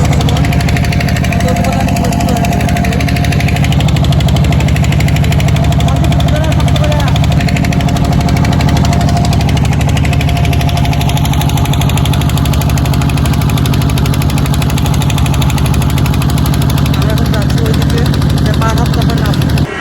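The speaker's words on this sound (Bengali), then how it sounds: "এখন আমরা নৌকা পার হবো" A boat engine runs loud and close with a continuous throbbing, knocking drone while crossing a wavy river, voices talking over it.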